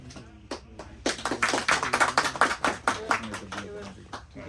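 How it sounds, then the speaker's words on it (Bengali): A small gathering at an awards event for a travel and money exchange business claps by hand, a fairly close, uneven run of distinct claps growing denser, then tapering off, with talking mixed in. "এদিকে সবাই হাততালি হাততালি।"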